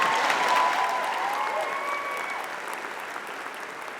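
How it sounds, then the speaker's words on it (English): Audience applause at an engineering commencement ceremony, a sustained wash of many hands clapping that stays fairly steady and loud for several seconds before easing slightly, with no talking over it. "you can clap for that."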